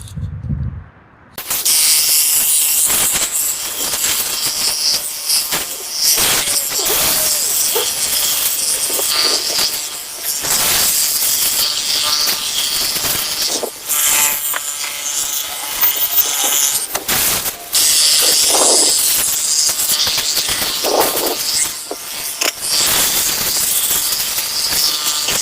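A foam cannon blasts wash foam onto a Honda Pilot with a loud, continuous pressurized hiss, broken by brief pauses and restarts over about twenty-five seconds.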